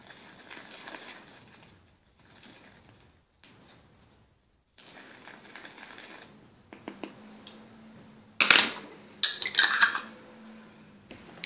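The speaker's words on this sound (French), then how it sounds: "on mélange tout de suite afin d'éviter les grumeaux" A spoon stirs a homemade natural toothpaste mixture in a small container, giving intermittent light scrapes and sharp clinks with short pauses. The strokes grow louder and busier toward the end.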